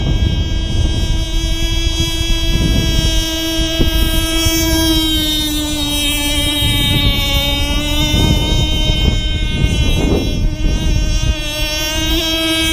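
A Micro Burst 21 boat runs across rough, windy water, its engine holding a loud, steady high-pitched whine with wind buffeting throughout.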